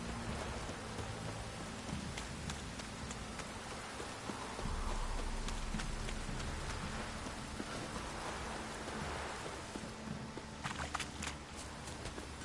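Steady rain falling in The Witcher 3 video game, a continuous dense hiss of drops with a few sharper patters, with no speech.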